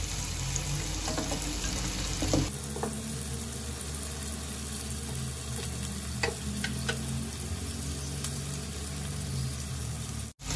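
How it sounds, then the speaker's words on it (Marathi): A mixture sizzles in a pan while being sautéed with salt for a stale-chapati churma, a steady soft frying hiss with occasional stirring scrapes, close and alone. "आता 2 ते 3 मिनिटं चांगलं मी परतून घेतलंय"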